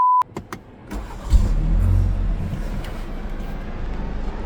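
A BMW G31 estate car starts up: a brief electronic chime and clicks, then the engine cranks and catches into a steady close idle, with no talk over it.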